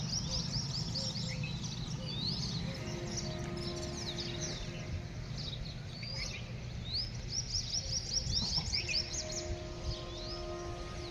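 Small birds, Indian robins, chirp and twitter faintly at a distance, with short repeated calls over a steady low rumble of outdoor background noise.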